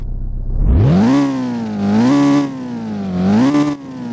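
A Ford RS200 Evolution engine in a Roblox game revs up sharply, holds a steady drone, then surges twice more in loud rising pulls, with no other sounds.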